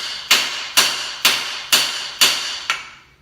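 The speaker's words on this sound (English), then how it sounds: "hit it with the hammer." Six loud, ringing metallic blows from a hammer land on misaligned bolts at a steady pace, each hit close and sharp with a short decaying ring.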